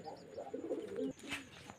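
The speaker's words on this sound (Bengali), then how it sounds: "পায়রাগুলো দেখাচ্ছে" Pigeons kept for sale at a home pigeon market coo softly in low, rolling burbles, a few short calls close by with faint background noise.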